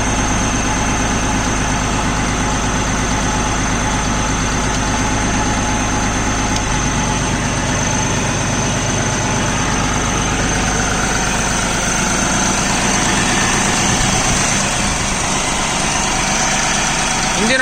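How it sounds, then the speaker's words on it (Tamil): A New Holland 5620 TX Plus CRDI 65 HP tractor engine idles steadily at 1000 RPM, a loud, continuous mid-low hum with constant vibration and no voices over it. "ஐடியல் ஸ்பீடு 1000 RPMல ஓடுது."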